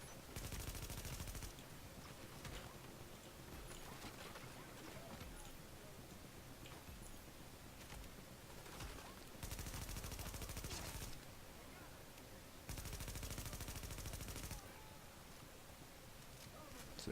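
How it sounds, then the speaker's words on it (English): Enemy gunfire in a shooter video game, with rapid bursts that recur in loud stretches among quieter steady game noise, all at a fairly low level. "what the hell is shooting me right now?"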